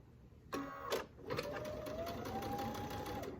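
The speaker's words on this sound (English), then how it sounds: "I'm going to start sewing and attaching this to the back side of this quilt." A sewing machine stitching binding onto the back of a quilt: after a couple of short clicks it runs in a steady close whir with a rapid needle rhythm for about two seconds, then stops.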